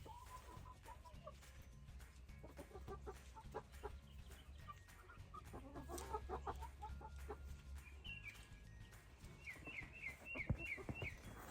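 Chickens cluck in a backyard chicken run beside a raised garden bed, a steady run of close, overlapping clucks and short calls with higher squawks toward the end over low background rumble.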